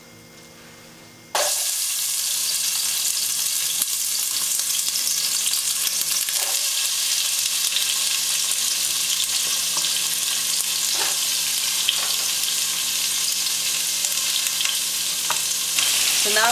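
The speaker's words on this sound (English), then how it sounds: "Put a little bit of oil. And I'm gonna cook my onions." Onions frying in oil in a pan, a sudden loud hiss that starts as they go in and settles into continuous close sizzling, with occasional stirring clicks and scrapes.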